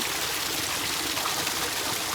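Spring water trickles and splashes steadily from a tree-fed source in a field at Jala Siddha Mahadev, Rupa Tal, a soft continuous gurgle close by with no voices.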